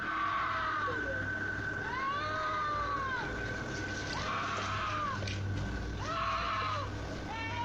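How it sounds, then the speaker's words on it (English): At night, a woman's faint, distant screams and calls for help rise and fall in long wailing arcs, repeating about every two seconds over a steady outdoor background hiss. "You can hear a woman scream."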